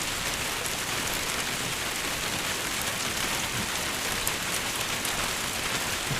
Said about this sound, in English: And it rains evermore.